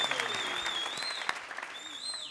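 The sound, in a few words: audience applause on TV show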